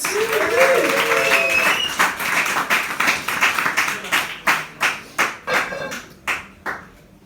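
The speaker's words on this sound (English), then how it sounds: "Clapping, whooping and cheering for Mr. Jack Bartlett." Live audience at a comedy show at the Dolphin clapping, whooping and cheering, a dense burst of applause with shouts that thins into scattered separate claps toward the end.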